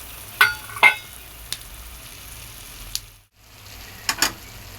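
Nuts roasting in a pan for carrot halwa, a steady low sizzle with a handful of sharp clinks and scrapes of a spoon against the pan, close and fairly loud, with no talking.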